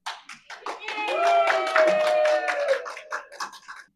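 A small studio audience at a comedy podcast gives a short burst of scattered claps. A loud voice talks and whoops over them, and the clapping thins into a few taps as the talk continues.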